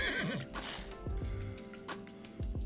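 A horse in The Sims 4 neighs and whinnies several times in quick bursts, loud and close, with soft hoof clip-clops and faint game ambience underneath.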